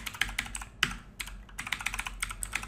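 Quick bursts of keystrokes on a computer keyboard as a command is typed, crisp close clicks in uneven clusters with short pauses between, with no voices.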